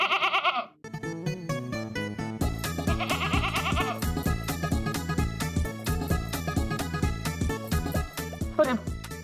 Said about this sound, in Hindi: बकरी को यहाँ से हटा दो